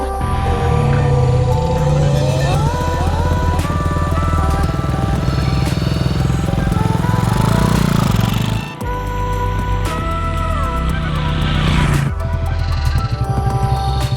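A motorbike bumps along a gravel dirt track with dips on the way to the La Reforma waterfall near Puerto Escondido, the engine droning loudly and close with shifting revs and rattling over the rough ground.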